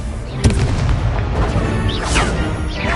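Confringo blast spell cast during a Hogwarts Legacy duel, a sharp booming impact early on followed by whooshing magical streaks over steady rumbling game ambience.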